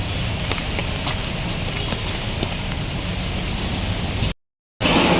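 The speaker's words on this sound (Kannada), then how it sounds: "ಮಳೆ ಅಂತೂ ಎಷ್ಟು ಹೆವಿಯಾಗಿ ಹುಯ್ತೈತೆ" Heavy rain pours down outdoors, a dense continuous hiss with scattered spattering drops, briefly cutting out near the end before resuming.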